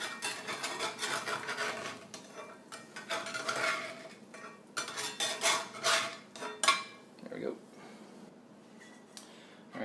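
A metal spatula scrapes and knocks against a new cast iron pan as a frying egg is worked loose and flipped, making quiet, close scraping strokes and clinks in short bursts.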